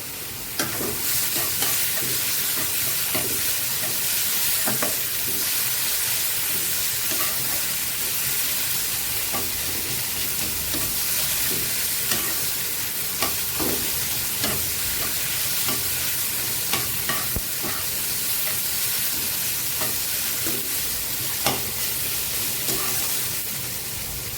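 Ground spices fry with pieces of rui fish and eggplant in a hot pan, a long steady close sizzle with repeated scraping and clinking of stirring throughout.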